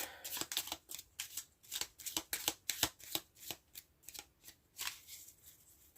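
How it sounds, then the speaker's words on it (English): A tarot card deck being shuffled close up, a rapid run of crisp riffling bursts with brief pauses between them, no talking. "I'm just going to go ahead and finish shuffling this deck"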